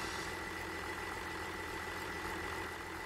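A tractor engine idles steadily in Farming Simulator 17, a constant low rumbling drone with an even, unbroken hum at a close, moderate level.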